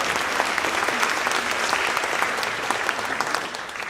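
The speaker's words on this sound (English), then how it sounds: "We can clap for that." Applause from a school board audience honoring a student named prom king, steady dense clapping filling the room for about four seconds with no speech over it.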